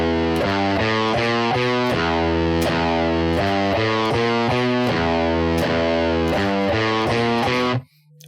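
Distorted electric guitar starting on the low sixth string, chugging a repeating riff in even, driving rhythm for about eight seconds before stopping abruptly. Loud and close, with no voices.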